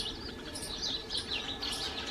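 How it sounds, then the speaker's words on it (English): Sparrows chirp in an autumn-bare pomegranate tree in a village backyard, a steady stream of overlapping high tweets at moderate distance, with no voices. "a lot of sparrows after their breakfast they are chirping and enjoying, sitting at autumn-stricken pomegranate tree"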